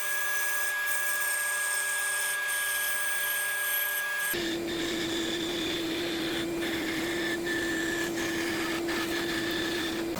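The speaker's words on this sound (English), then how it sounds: "then cut it out on the bandsaw" A bandsaw whines steadily throughout, its pitch dropping partway as the blade bites into the wood, with a constant high hum.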